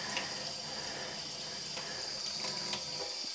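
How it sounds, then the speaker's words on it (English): Cold water runs from a tap over skeins of yarn being washed for dyeing, a close, steady splashing hiss with small irregular spatters throughout the few seconds, no talking. "So I'm just running this under cold water"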